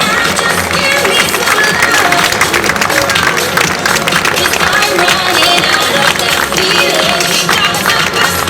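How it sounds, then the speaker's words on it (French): Sustained applause from a crowd honouring prize winners at a tennis tournament award ceremony, loud and continuous clapping with some cheering and crowd murmur throughout. "applaudissements pour eux"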